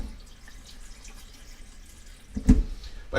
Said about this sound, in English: I'm going to drain those out and rinse them.